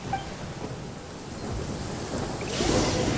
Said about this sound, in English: I like how they made it rain.